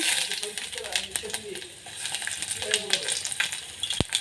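Mustard seeds, chana dal, urad dal, cumin and curry leaves frying in hot oil for a chapati side dish: busy crackling and popping with light scraping and a sharp metallic clink near the end, under faint speech.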